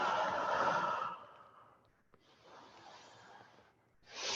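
Slow yoga breathing: a long, airy exhale fades out, followed by a softer inhale and then another strong breath swelling at the end, close and clear with no other sounds.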